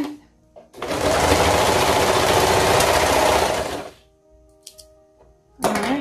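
A sewing machine runs one loud, continuous burst of stitching through fabric for about three seconds, then stops, followed by small clicks and the start of another short run.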